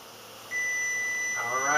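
A kitchen timer's steady electronic tone sounds continuously, with a low appliance hum underneath and some faint background noise toward the end.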